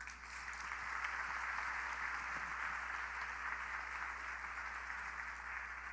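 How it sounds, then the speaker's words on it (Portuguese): Audience at a Christian women's conference applauds steadily and evenly throughout, a dense continuous clapping wash at moderate distance with no voices standing out. "Se você pode aplaudir o Senhor."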